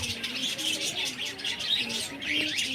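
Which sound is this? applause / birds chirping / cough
birds chirping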